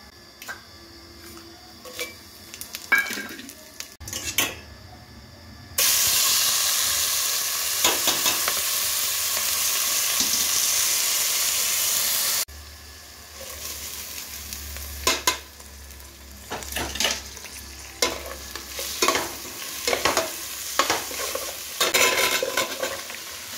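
Rice, lentils and vegetables fry in oil in a wok for khichuri, with close, repeated scraping stirs and a loud, steady sizzle swelling through the middle stretch.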